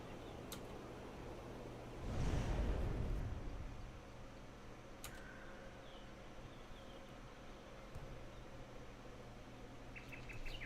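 Ambient outdoor atmosphere in Halo: Combat Evolved, faint scattered bird chirps and insect-like tones over a steady hiss, with a brief louder whoosh near the start and no talk.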